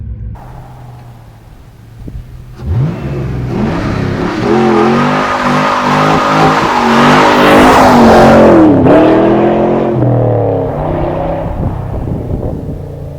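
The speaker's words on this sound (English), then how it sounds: "So I'm here in my 1999 Chevy Camaro Z28. Let's just go and take it down the road" A 1999 Chevy Camaro Z28 pulls away from idle and its V8 climbs through loud, rising revs, a shift, then more acceleration before easing off, heard close and strong from inside the car.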